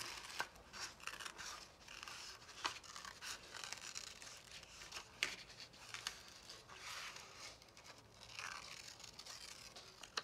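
Scissors snip through black paper in a quiet setting, with a series of short, close, crisp cuts at an irregular rhythm.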